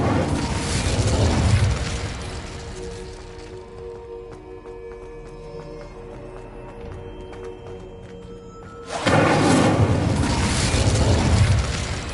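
In the Hogwarts Legacy video game, a fire spell bursts with a loud whooshing roar, fades to a quieter rumble with small crackles, then flares up again into another loud, sustained blast.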